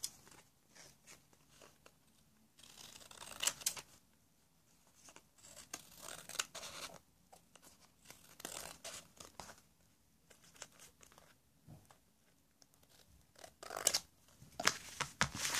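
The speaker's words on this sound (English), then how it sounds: "I'm gonna cut off the excess." Excess paper is trimmed from a small paper house model with quiet, close snips and crinkling rustles in irregular bursts, faint and sparse against near silence.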